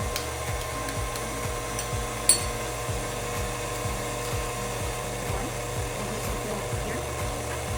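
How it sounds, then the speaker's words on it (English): An electric mixer beating brownie batter, a steady whirring drone with a rhythmic wobbling pulse and one sharp clink partway through. "As the mixer is mixing the batter"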